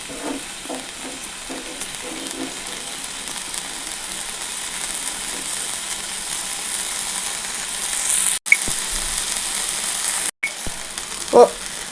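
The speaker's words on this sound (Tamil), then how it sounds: "ஃபர்ஸ்ட் உருளைக்கிழங்க தவா மேலே வச்சு ரோஸ்ட் பண்ணிக்கலாங்க." Potatoes roast on a hot tawa with a steady, even sizzle and a few faint clicks, heard alone with no talking.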